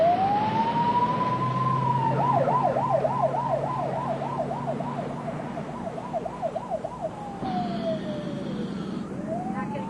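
An ambulance siren in New York wails and then switches to a fast warbling yelp, loud and nearby over road noise, returning to a long wail.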